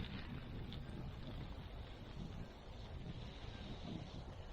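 A garden hose runs water into a planting hole in a composted garden bed, a faint, steady, continuous rushing hiss with no breaks and no voices.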